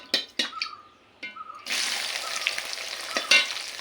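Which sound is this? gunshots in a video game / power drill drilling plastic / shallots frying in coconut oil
shallots frying in coconut oil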